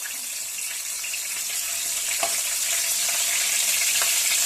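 Cumin and mustard seeds spluttering in hot oil for an Andhra-style egg masala gravy, a loud continuous crackling sizzle with a few sharper pops, close and steady throughout.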